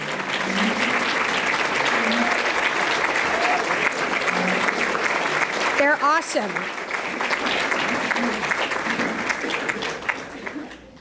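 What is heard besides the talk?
crowd applause for staff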